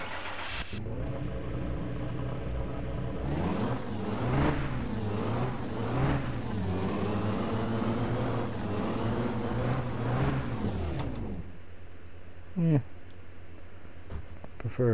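A Nissan 370Z turbo engine in Car Mechanic Simulator 2021 starts and revs, rising and falling through several throttle swells for about ten seconds before cutting out, followed by a few faint clicks.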